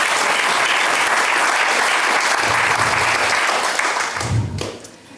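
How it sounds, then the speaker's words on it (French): At a village New Year's greetings gathering in Badefols-d'Ans, the audience applauds loudly for the local associations, a dense, sustained clapping from a crowded hall that thins out and fades near the end, with a brief low murmur of voices. "Et on peut les applaudir bien fort pour leur engagement."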